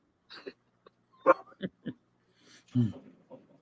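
Several dogs bark in short separate bursts, fairly loud and scattered across a few seconds, mixed with some vocal noises but no clear speech.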